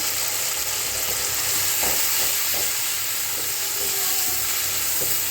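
Ground spice paste sizzling in hot oil in a pan while a Bengali pomfret fish curry is cooked, a steady close hiss with a few soft stirring knocks and no voices.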